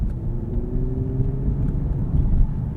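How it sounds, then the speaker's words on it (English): A turbocharged engine in a 2022 Infiniti Q60 pulls steadily under acceleration, heard from inside the cabin as a continuous low rumble with faint rising tones, no talk over it. "There's a little bit of turbo."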